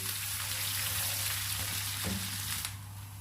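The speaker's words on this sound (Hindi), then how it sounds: "चॉप किया हुआ लहसुन शामिल कर देंगे। इसको 2 मिनट तक भूनेंगे" Chopped garlic sizzles steadily in a hot pan for a creamy chicken white sauce pasta, a dense continuous crackle close by with a low steady hum underneath and a brief clink near the end.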